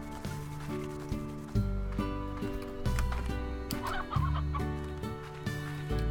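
Roosters cluck in Slime Rancher, repeated short clucks over a steady tonal music bed, up close with no talk.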